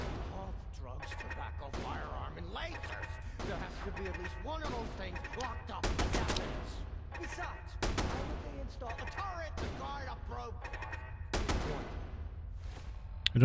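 Game weapon fire from a turret in Fallout 4, a steady stream of bursts and shots with sharper louder volleys at intervals, mixed with game effects and voices.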